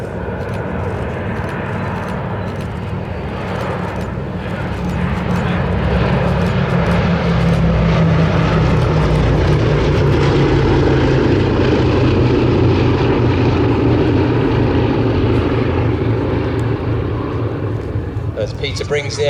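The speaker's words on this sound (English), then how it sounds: "the lovely noise from those four 1200 horsepower Wright Cyclone turbo supercharged radial engines" Loud, steady drone of a B-17 bomber's four 1200-horsepower Wright Cyclone turbo-supercharged radial engines in flight, a deep continuous roar with a slight rise and fall in pitch, heard from inside or near the plane.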